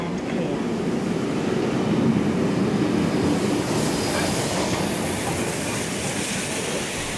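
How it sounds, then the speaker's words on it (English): Heritage train 6029 rumbles past a station platform in a loud, steady, broadband roar of wheels and carriages that fills the clip and eases slightly toward the end. "Next, 6029 passes by with its last train for the day to Hurstville."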